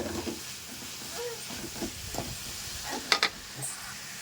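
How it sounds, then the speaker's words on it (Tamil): Onions sautéing in a pan for chicken gravy give a soft, steady sizzle, with scattered stirring scrapes and a brief louder clatter near the end. "வெங்காயம் பார்த்திங்கன்னா நல்லா வதங்கிட்டுருக்கு."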